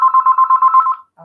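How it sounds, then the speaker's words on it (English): A telephone rings indoors with a rapid trilling electronic bell, about a second of loud pulsing tone that cuts off abruptly. "the phone rings now"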